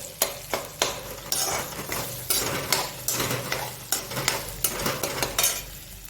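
Metal spoon scraping and clinking against a pan in repeated stirring strokes of a tempering for a sabudana fasting dish, over a faint steady sizzle of hot oil.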